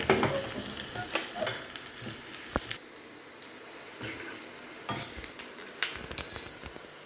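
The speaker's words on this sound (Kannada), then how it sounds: "ಸ್ವಲ್ಪ ಇದು ಫ್ರೈ ಮಾಡಬೇಕಲ್ವ ಈರುಳ್ಳಿನ." Sliced onions fry in hot oil over a curry-leaf tempering for onion-garlic gojju, a soft continuous sizzle broken by frequent scrapes and clinks of a metal spoon stirring in the pan.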